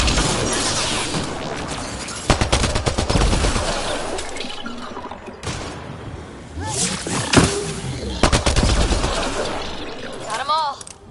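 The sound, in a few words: gunfire in video game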